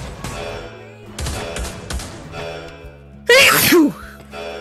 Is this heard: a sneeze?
yes